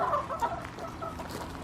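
Backyard chickens cluck and murmur continuously, fairly close, with a few louder clucks near the start and no talking.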